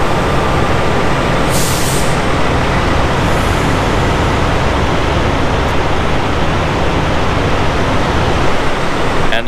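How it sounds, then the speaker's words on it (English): A busy truck stop at night, full of parked trucks, fills the air with a dense, loud, steady roar of idling engines, broken by a couple of short air-brake hisses, with no talking. "I want to show you guys how full a truck stop gets at night."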